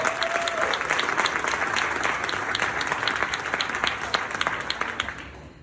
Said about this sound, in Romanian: Un mare rând de aplauze companiei Enagic!